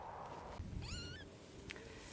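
A cat meows once, a clear rising-and-falling call close by, with faint background noise before it and a short soft sound afterward.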